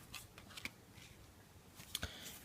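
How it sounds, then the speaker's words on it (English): A deck of tarot cards being shuffled, a few quick soft riffles and flicks, close and fairly quiet, with no talk. "let's give the cards a shuffle"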